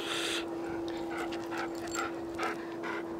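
A puppy whimpers and yips in several short, high-pitched bursts at close range, over a steady electrical hum and background hiss.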